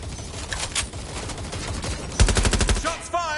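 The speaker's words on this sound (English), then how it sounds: "Shots fired! Shots fired!" Rapid automatic gunfire in the video game Watch Dogs Legion, bursts of shots rattling close and loud with a sharper volley near the end.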